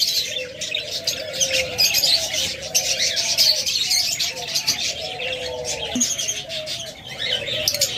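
Caged pet birds including diamond doves and cockatiels at a bird sale: repeated soft dove coos under a busy layer of bright chirps and tweets from nearby birds, with a brief flutter of wings.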